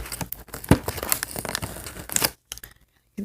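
Plastic and cardboard packaging crinkles and tears as a Barbie doll box is opened, with irregular close crackling bursts and a sharp rip before a brief pause.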